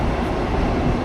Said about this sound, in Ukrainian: А, це потяг їде.